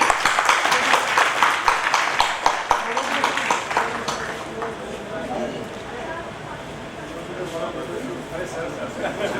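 An audience at a stage event welcoming a guest at an education charity festival breaks into loud, dense applause that fades after a few seconds, while a voice keeps talking over the crowd through a sound system.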